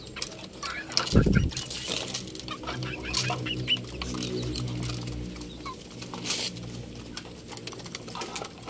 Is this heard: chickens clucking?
yes